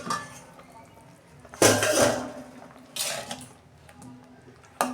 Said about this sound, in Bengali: ঢাকনাটা আমি খুলছি